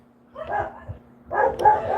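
A dog barks twice close by, two short gruff bursts separated by a brief pause, loud and clear against an otherwise quiet background.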